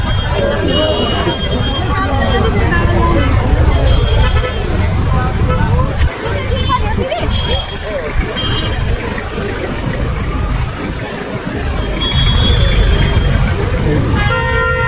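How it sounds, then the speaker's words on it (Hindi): Jammed street traffic in Thamel, Kathmandu, near a vegetable market with vendors lining a narrow road: a dense, loud wash of engines, scattered horn toots and crowd babble, continuous throughout. "उसकी वजह से ट्रैफिक जाम होकर रखा है।"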